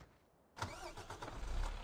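A truck engine in Farming Simulator 2015 on Xbox One cranks and catches after a brief quiet, then settles into a steady, close idle.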